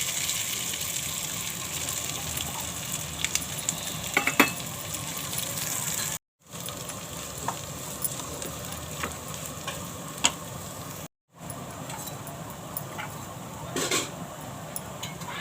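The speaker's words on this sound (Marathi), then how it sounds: "तेल गरम झालं आहे थोडीशी राई टाकते जिरं कढीपत्ता कुस्करलेला बटाटा" Mustard seeds, cumin, curry leaves and mashed potato fry in hot oil with a steady, soft sizzle and scattered crackles and pops, broken by two brief silent gaps.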